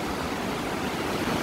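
Fırtına Deresi, a Black Sea mountain stream in the valley on the Ayder plateau road, rushing as a steady, dense broadband roar of flowing water that stays even and continuous throughout.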